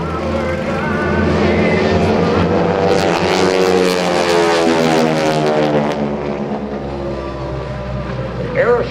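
Aeroshell Aerobatic Team propeller planes pass overhead at an airshow, a loud, swelling engine drone with sweeping pitch shifts that peaks mid-clip and slowly fades, with crowd noise in the background.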